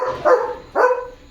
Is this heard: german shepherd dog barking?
yes